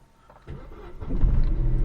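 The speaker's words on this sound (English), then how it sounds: "Car starts." A Vauxhall car engine cranks briefly and then catches, turned over with a newly made key, settling into a close, steady idle rumble with no speech.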